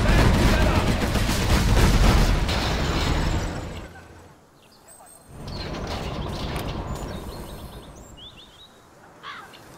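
Bullet barrage gunfire in the game Command & Conquer Generals Zero Hour, a dense roaring burst of rapid shots that cuts off, pauses briefly, then resumes more softly with a few sharp chirps over the top.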